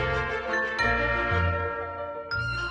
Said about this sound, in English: I did add some bells. These are small bells that I had purchased last year on Amazon.